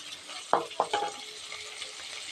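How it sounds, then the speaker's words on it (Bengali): A soft, steady sizzle of cauliflower and potatoes frying in a pan, with a few sharp clinks of a utensil against the pan early on. "এদিকে ফুলকপি আর আলু ভাজা হচ্ছে"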